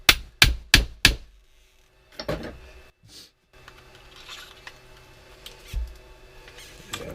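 During a clutch repair on a Hyper 7, a part is tapped into place with four sharp, evenly spaced knocks up close, then softer scraping and handling noises follow without talking.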